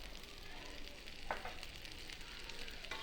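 Tomatoes sizzle in a frying pan with turmeric for a dried shrimp curry, a steady, soft hiss of frying with a few faint stirring scrapes.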